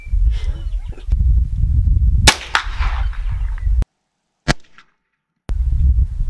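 Gunshots fired at target circles in a dots-and-shots challenge, a few sharp single cracks separated by pauses, over outdoor rumble and wind noise that cuts out between shots.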